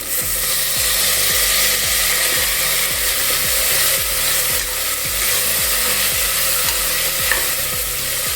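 Steady sizzling of tomatoes frying in a pan for mutton bone soup, with a regular scraping rhythm of a spatula stirring close by throughout.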